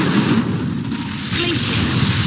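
An Incendio fire spell erupts in a video game with a loud whooshing boom and roaring burst, steady rumbling throughout, close and full.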